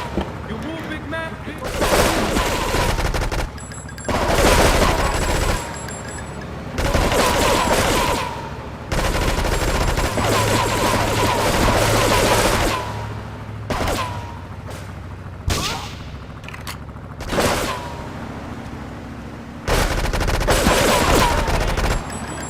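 Machine gun fire in GTA 3, loud repeated bursts of automatic gunfire with dense rapid shots and booming impacts, separated by brief pauses, with voices talking between volleys.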